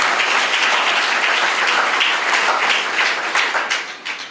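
Audience clapping at a Telugu Christian sermon on Psalm 46, a dense, loud burst of applause from many hands that holds steady and then begins to fade at the end.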